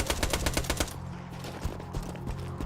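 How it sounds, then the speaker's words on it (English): Rapid submachine gun bursts from the video game Borderlands 2, a fast rattling string of close, loud shots that gives way to scattered sharper gunfire and impacts. "to the quick whip of a submachine gun,"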